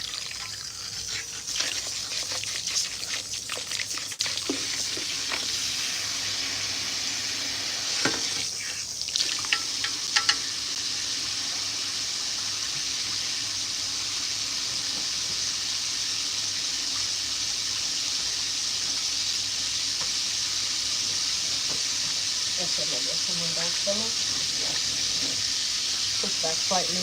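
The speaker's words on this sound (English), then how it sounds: "I'm gonna get the water nice and warm." Tap water at a salon wash bowl is warmed up for washing relaxed hair, running as a steady close hiss and splash for the whole stretch, with occasional handling sounds and brief voices in the background.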